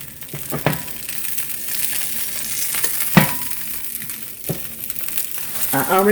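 Steady crackling sizzle of country-style steak frying in hot avocado oil, with occasional sharp clatters and scrapes of a utensil in the pan.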